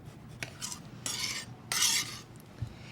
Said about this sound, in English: we're going to slice this into slices or orange wheels